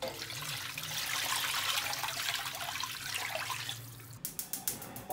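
Water poured into a pot of lamb ribs gives a steady rushing splash for about four seconds, then stops, followed by a quick series of light clicks and taps.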